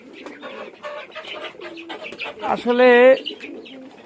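A pet pigeon coos once, a single rolling throaty call rising above someone talking close by.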